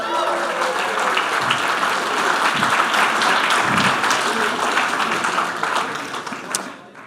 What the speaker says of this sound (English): Let's also keep the applause going as we welcome back the outspoken Rucka Rucka Ali.